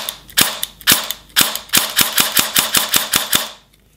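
A CM.127 electric airsoft gun test-fired after a MOSFET install, close and loud: about a dozen sharp semi-auto shots, first spaced, then quicker and evenly paced, each a crisp snapping crack before a sudden quiet.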